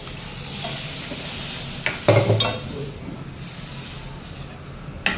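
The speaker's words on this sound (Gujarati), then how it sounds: "ચોળાનો વઘાર તો કરી દીધો" Soft frying sizzle of black-eyed beans in a tempering pan, with a few scraping stirs and clinks of a utensil against metal, no talking.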